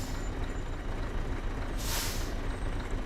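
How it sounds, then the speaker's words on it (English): A Scania truck in a video-game sound mod releases its air brakes, a sharp hiss bursting out over a steady idling engine rumble, close and without talking. "just air brakes."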